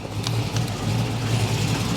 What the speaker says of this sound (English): I'm gonna go outside and give this thing a rev for you guys real quick.